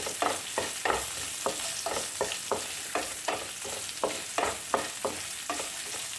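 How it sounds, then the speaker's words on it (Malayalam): Chilies, ginger and garlic sauté for a sardine pickle, stirred briskly with a spoon scraping the pan in a quick, steady rhythm over a continuous sizzle, close by with no voices. "എല്ലാം കൂടെ നന്നായിട്ടൊന്ന് വഴറ്റിയെടുക്കാം"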